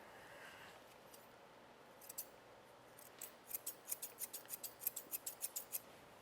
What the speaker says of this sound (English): I'm going to use my thinning shears.